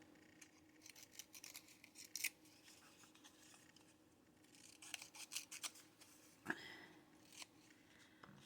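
Paper stamps being snipped out with scissors, giving quiet, scattered crisp snips and rustles at close range with brief pauses between cuts and no talk.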